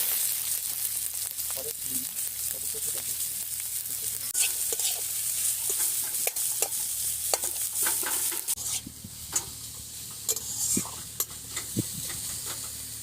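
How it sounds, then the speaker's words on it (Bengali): Onions fry in a little oil in a wok with a steady, close sizzle, broken by repeated sharp scrapes and clicks of stirring. "তো কড়াইটা পেঁয়াজ দিয়ে দিচ্ছি।"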